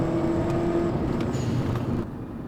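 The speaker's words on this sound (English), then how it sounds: "So I'm in second gear and I'm not going to push it all that much." A 2010 Skoda Octavia with a DSG gearbox driving in second gear gives a steady, moderate engine drone with road noise from inside the cabin, easing slightly quieter near the end.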